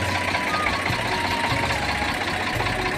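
An Eicher 368 tractor with a 43-horsepower Ricardo engine idles nearby, a steady, rough mid-pitched chug running continuously without revving.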